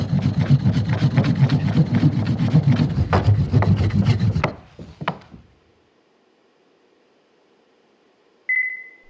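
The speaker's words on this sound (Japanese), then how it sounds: "そして強く押し付けながら前後に動かします。" A wooden fire drill is pushed hard and rubbed back and forth on a wooden board, making a dense, steady rasping friction close by for several seconds, then stopping, followed by near silence and a brief short beep at the end.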